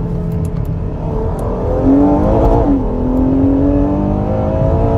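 A V12 car engine revs over a steady rumbling idle, the pitch rising and then falling back in one smooth sweep, fairly close and loud with no talking.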